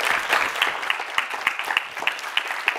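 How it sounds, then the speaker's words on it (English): Audience applause at a talk on free and open-source software, a dense steady patter of many hands clapping with a few sharper individual claps standing out, fairly close and continuous throughout. "let's get a round of applause for all the PyCharts and stuff"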